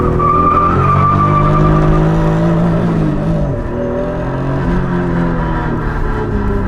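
A MK4 Toyota Supra engine revs close up as the clutch is slipped, a loud sustained drone whose pitch climbs, then dips and rises again.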